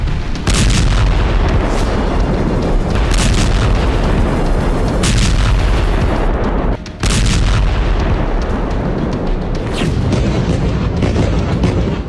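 Continuous heavy booming blasts and rumbling explosions in Gaza, loud and dense throughout, with a brief dip partway before the roar resumes.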